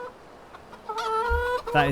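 Chickens in Farming Simulator 25 cluck and squawk in a short, close burst of several calls that grows louder toward the end.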